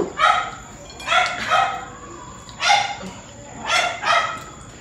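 A dog barks in short bursts at a cookout where grilled food is being eaten, about five separate yelps spread across the stretch, fairly close and moderately loud, with no talk over them.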